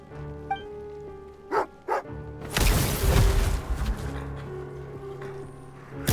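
A dog named Garen barks in the Genshin Impact video game, two short sharp barks followed by a burst of louder game noise and ambient sound.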